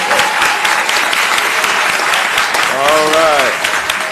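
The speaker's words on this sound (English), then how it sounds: "to the crowd, one hand clap, and then that's the only time you can make noise in here" A packed crowd at a county commission meeting bursts into loud sustained applause, dense clapping throughout, with a voice speaking over it near the end.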